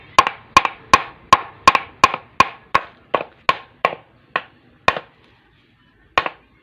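Sharp wooden knocks from a hammer striking wood while a chair is being built, about fifteen loud close blows in a steady rhythm that slows and spaces out toward the end, with no talking over them.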